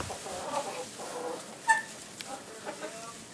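Chickens on a homestead during morning chores, with soft scattered clucks and a brief louder squawk near the middle, heard at moderate distance over a quiet background.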